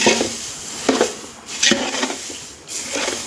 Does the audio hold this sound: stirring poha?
yes